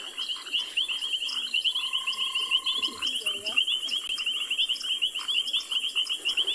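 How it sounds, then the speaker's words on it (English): Frogs croaking at sunset on an African safari, a dense chorus of high, rapid repeated calls from many frogs at once, continuous and fairly loud against a quiet background, with no talk. "a few different sound of these frogs"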